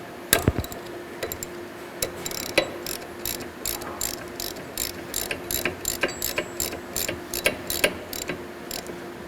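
A ratchet wrench clicks while loosening a shoulder bolt on a 558 belt sander, with quick bursts of ratcheting ticks and a few knocks, close and fairly quiet.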